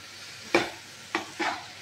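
Stirring an elephant foot yam curry with hilsa fish head, seasoned with roasted cumin powder and sugar, in a pan: three short scraping strokes, close and moderately loud, with no talking.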